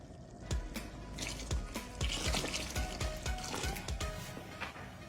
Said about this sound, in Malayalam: വിനാഗിരി ചേർക്കാം.